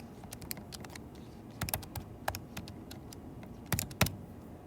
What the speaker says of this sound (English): Type that into your calculator.